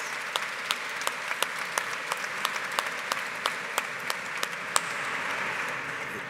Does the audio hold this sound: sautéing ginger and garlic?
no